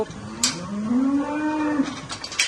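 Cattle on a dairy farm, one giving a single long, drawn-out moo that rises and falls. It sounds close and loud, with faint farm clatter around it and no talking.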